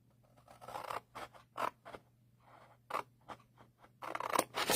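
Scissors snip through material in a string of short, crisp cuts with small pauses between them, close and fairly quiet, ending in a quick cluster of faster snips.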